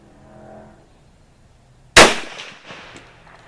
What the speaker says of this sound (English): Okay, shot number 5. With the Tumble lube bullet.